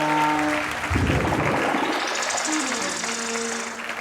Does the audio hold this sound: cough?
no